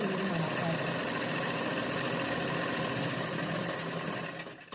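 A sewing machine runs continuously, stitching the folded edge of a chudi top with a fast, even mechanical whir that cuts off near the end.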